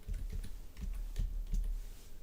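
Keystrokes clatter on a computer keyboard while working in Excel, a quick irregular run of close, crisp clicks and taps with brief pauses between bursts, alone without speech.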